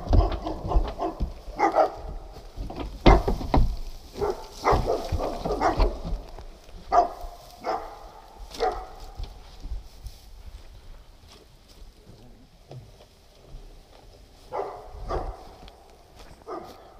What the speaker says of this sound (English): these dogs barking